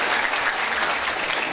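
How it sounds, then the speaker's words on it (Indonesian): Audience applause at a Balinese drama gong performance, a steady, dense wash of clapping that holds at an even level from start to finish, with no talk over it. "Tepuk tangan nunggu kita nih."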